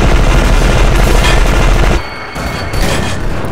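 Clones shooting guns in the co-op shooter E.Y.E. Divine Cybermancy, heard as a loud, continuous barrage of overlapping gunfire. It dips briefly, then a thinner round of shots resumes.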